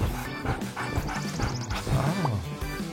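Puppy barking sharply at a thief in a short burst of yips and whimpering cries over a busy, cluttered background.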